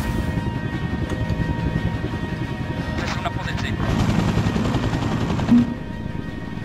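German helicopter in a multiplayer combat video game, a steady loud rotor drone throughout with gunfire-like bursts and a brief thump near the end, while players talk over it.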